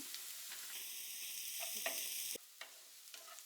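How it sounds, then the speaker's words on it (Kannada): Crushed garlic and green chillies sizzle in hot oil in a pan, a steady loud crackling hiss with a few stirring clicks, briefly cutting down partway through before quieter frying continues. "ನೋಡಿ, ಫ್ರೈ ಆಗ್ತಾ ಇದೆ."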